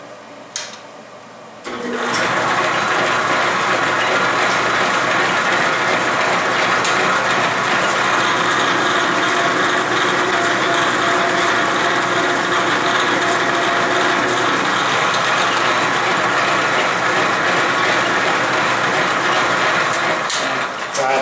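South Bend 13 metal lathe taking a light cut of about two thousandths while preparing a chuck backplate, a steady mechanical whirring and ticking that starts abruptly after a quiet second and holds loud and even to the end.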